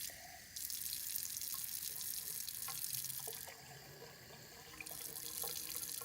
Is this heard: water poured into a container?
yes